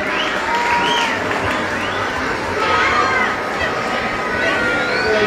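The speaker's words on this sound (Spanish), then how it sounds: "la recibimos con un fuerte aplauso" A crowd at an outdoor inauguration of scenic lighting at a cathedral and historic centre claps and cheers, with shouts and whistles rising over a continuous loud roar.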